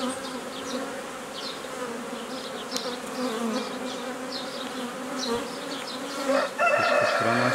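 Honey bees buzz steadily around an opened hive being worked, a dense close drone with individual bees zipping past, and a brief rustle near the end.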